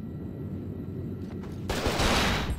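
Gunfire from an unseen shooter aimed at a zombie on an oil rig in the video game Cold Fear: a dense burst that swells near the end over a low rumbling ambience, with no talking.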